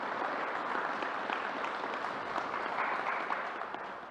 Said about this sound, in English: Let's give Ms. Lewin another round of applause for getting it done